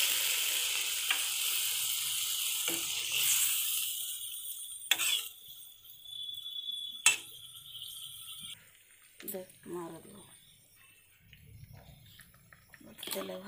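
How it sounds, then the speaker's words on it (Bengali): Potatoes fry in a pan for a Bengali home-cooked meal. A loud sizzle fills the first few seconds, then fades into quieter frying, broken by several sharp clinks and scrapes as the potatoes are stirred. "আলুটা কষা হয়ে গেছে, আর একটু নাড়াচাড়া করে জল দিয়ে দেবে।"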